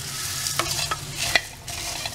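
Puffed rice and peanuts roast in a pan over low heat for masala pori, with a dry rustling stir and light scraping taps over a faint sizzle, close and unaccompanied by speech.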